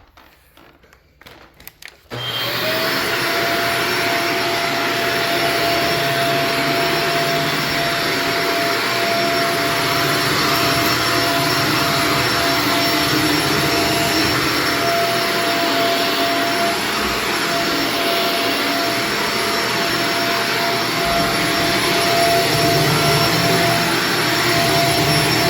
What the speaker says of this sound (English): I just basically need to finish vacuuming 3 bedrooms